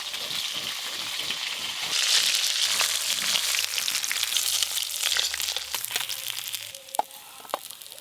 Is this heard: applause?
no